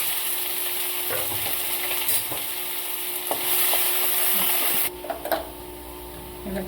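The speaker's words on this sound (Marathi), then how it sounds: "जिरं टाकायचं, कढीपत्ता, नंतर थोडासा लसूण टाकायचा आणि नंतर आपण कांदा कापलेला टाकायचा।" Chopped onion frying with cumin, curry leaves and garlic, a steady close sizzle with scattered spatula scrapes and taps under a constant mechanical hum.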